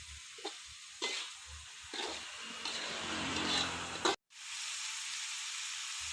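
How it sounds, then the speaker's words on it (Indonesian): Chicken liver and gizzard frying in a pan as it is stirred, with a steady loud sizzle broken by scraping strokes of the spoon against the pan, then a brief cut and continuing hiss. "Kita aduk-aduk seperti ini sampai merata dulu ya, Bunda ya."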